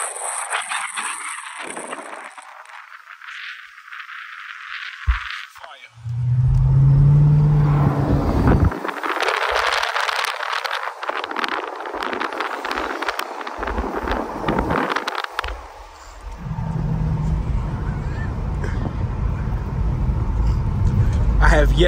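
A Dodge Challenger Scat Pack 392 cruising slowly past a dealership at night, its engine rumbling steadily with a swell in throttle, wind noise and someone talking over the drive.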